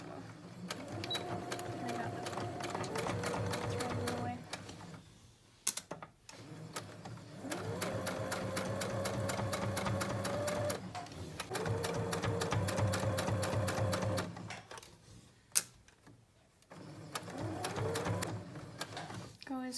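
A sewing machine back stitches fabric for medical masks, running close up in steady whirring bursts, with brief pauses near the middle and again toward the end before it resumes.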